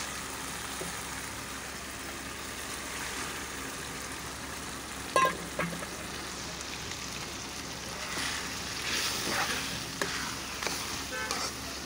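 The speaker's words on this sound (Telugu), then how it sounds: "ఈ విధంగా చికెన్ బాగా కలిసే విధంగా మొత్తం కలుపుకోవాలి గరిటెతో" Chicken pieces for a brinjal chicken curry are stirred with a ladle in a frying pan, a steady hiss of frying broken by a few clear scrapes and knocks of the ladle against the pan, with no talking.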